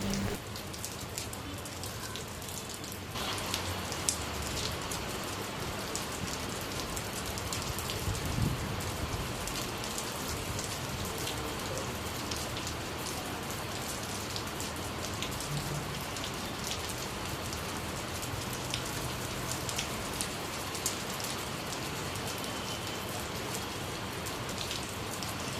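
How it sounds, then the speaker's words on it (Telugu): Heavy rain pours steadily outside a room, a dense, continuous hiss of drops on surfaces lasting throughout with no voices. "బయట ఫుల్ వర్షం వస్తుందని"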